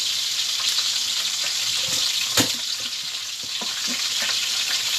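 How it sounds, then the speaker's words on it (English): Crab pieces hit hot oil for a seafood soup, giving a steady bright sizzle throughout with occasional sharper crackles and spits, close and fairly loud, no talking. "And they are going in the oil."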